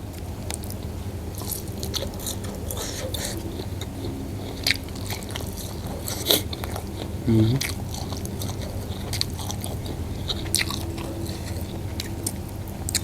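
Close-up biting and chewing while eating fish roe from fermented fish with raw chili and garlic, a steady run of moist crunches and smacking bites with occasional sharper snaps.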